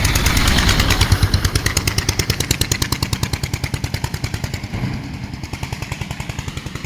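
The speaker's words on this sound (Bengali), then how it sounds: "দেখুন সামনে একটা বাইক ভ্যান আসছে" A motorbike-powered van on a foggy riverside road in Bangladesh chugs loudly with a rapid, even engine pulse that holds steady close by for several seconds.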